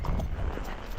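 A fox trotter horse paces on the ground, its hooves giving a dull, muffled clip-clop rhythm under low background rumble, brief and fairly faint.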